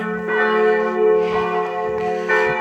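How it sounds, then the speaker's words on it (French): Loud, resonant bells ringing close by, their overlapping strikes swelling in repeated pulses with a long ringing hum. "ça sonne fort, ça fait beaucoup de bruit, ces cloches, là."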